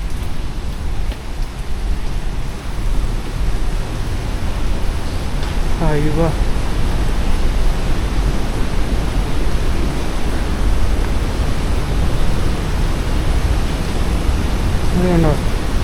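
Rushing water roaring inside Gupteshwor Mahadev cave in Pokhara, Nepal, a loud, constant broadband wash filling the space, with a brief exclamation and faint voices over it.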